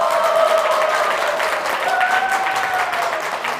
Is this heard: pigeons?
no